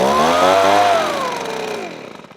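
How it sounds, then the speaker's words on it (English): A repaired Titan petrol leaf blower engine running loud and close, a steady buzzing drone that sags in pitch and fades as the engine winds down toward idle. "So we've now got a working leaf blower"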